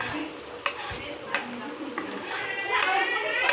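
Chopped tomatoes hit hot oil in a pan for egg kothu parotta, a close sizzle that swells louder toward the end, with a few spatula taps and scraping stirs.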